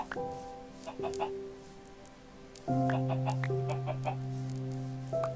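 Synthetic chicken clucks repeat over a steady looping game melody, the music swelling louder midway through.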